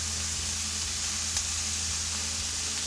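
Diced pork frying with translucent onions in a pan for Malaysian special fried rice, a constant close hiss with faint soft crackles and no talking.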